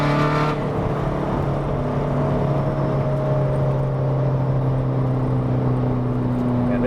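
A converted Skoda Fabia running a 304 bhp 2.0 TDI engine pulls hard under acceleration, heard from inside as a loud steady drone that rises in pitch, with a brief whoosh at the start.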